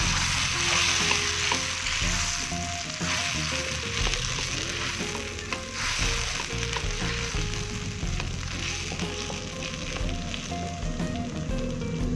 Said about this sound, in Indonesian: kemudian kita masukkan bumbu yang sudah di blender.